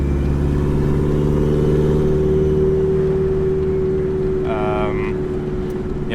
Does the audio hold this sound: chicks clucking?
no